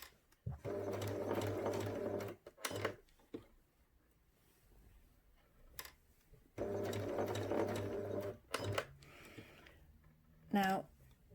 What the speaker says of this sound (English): there's going to be a lot of putting the needle down, lifting the foot, pivoting the fabric, pop the foot back down, a few more stitches